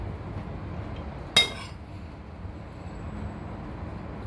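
A single sharp metallic clink of a spoon striking a dish of sardines, brief and fairly close, then faint room quiet.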